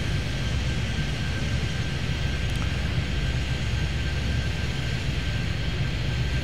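Steady jet engine roar from airplanes going around at San Francisco airport in Airport Madness 3D, a constant broadband whine and rumble with no distinct events, no talking.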